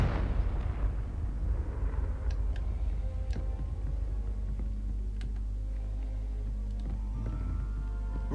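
Confringo fire spell blasts in Hogwarts Legacy: a deep, steady rumbling roar with scattered crackles and sharp ticks running all the way through, loud and without any voices.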